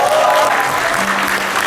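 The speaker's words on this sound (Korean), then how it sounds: "우리 강훈식 의원님께도 커다란 박수 한번 부탁드려도 어떨까요" Applause fills a book launch event hall, a brief, loud burst of many hands clapping at once with crowd murmur underneath.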